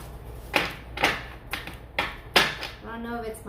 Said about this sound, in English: I don't know if it's my shuffling or it's my fingers.